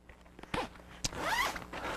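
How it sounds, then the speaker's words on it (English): Zipper on the exterior pocket of a Dunlop Biomimetic series tennis bag, pulled in a couple of quick rasping strokes, close and fairly quiet, with a longer zip run toward the end and no talking. "It has one exterior zipper pocket right here for just some small items."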